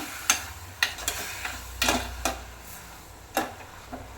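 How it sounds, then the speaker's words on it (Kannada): Fenugreek leaves frying in a pan, heard as sparse, close scrapes and taps of a spatula stirring against the pan over a faint low sizzle, with no talking. "ಇದನ್ನು ಚೆನ್ನಾಗಿ ಫ್ರೈ ಮಾಡ್ಕೊಳ್ಳೋಣ."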